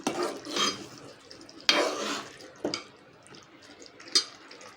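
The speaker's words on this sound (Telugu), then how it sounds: "ఇందులోనే మనం ఉడకబెట్టుకున్న గోంగూర కూడా వేసేస్తాం వేసేసుకున్నాం కదండి ఒకసారి కలుపుకున్నాం" Boiled gongura leaves being stirred into chicken curry in a pan, with wet scraping and squelching strokes, a sharp clack of the spoon against the pot, and a faint sizzle beneath, close and moderately loud.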